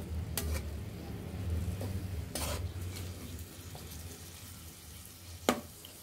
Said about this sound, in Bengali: এখন ভালোভাবে মশলাগুলো কষিয়ে নিতে হবে।